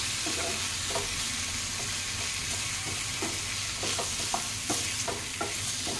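Masala being stirred through a dish in a pan, a gentle steady sizzle broken by repeated scraping and clacking strokes of a spoon against the pan, close and fairly quiet with no talking.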